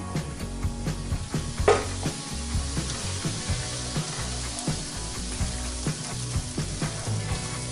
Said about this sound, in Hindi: और थोड़ा सा ऑयल को गर्म करेंगे और अब मैं इसमें ये इलायची डाल दूंगी। मैं इसमें सूजी ऐड कर दूंगी